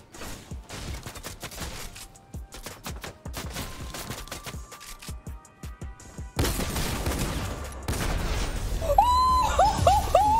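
Rapid bursts of gunfire crackle through a Fortnite match, building to denser, louder volleys in the second half, mixed with in-game effects and rising tones near the end.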